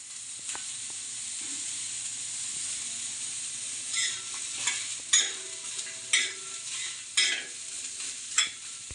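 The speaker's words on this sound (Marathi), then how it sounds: "कांदा भाजून घ्यायचा त्यामध्ये थोडा लसूण पण घालायचा आहे" Onion roasting with a little garlic in a pan gives a steady soft sizzle, with several louder stirring scrapes toward the end.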